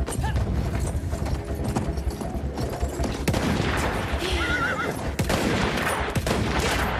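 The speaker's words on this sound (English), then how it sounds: "Get on that horse." A horse whinnies amid bursts of gunfire and clip-clopping hooves in the Battlefield 1 video game, with sharp shots punctuating a busy battlefield din.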